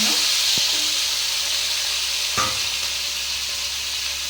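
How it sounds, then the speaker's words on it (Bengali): Diced potatoes and onions fry in hot oil for a fish curry, giving a steady, bright sizzle throughout, with two sharp knocks from stirring or a utensil against the pan. "এবার কিন্তু আমাকে পেঁয়াজ আর আলুটা ভালো করে ভেজে নিতে হবে বেলে মাছের জন্য"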